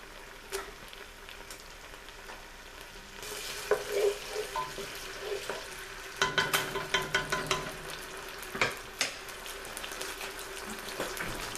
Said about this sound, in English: We're going to cook the cabbage and the vegetables until it's tender.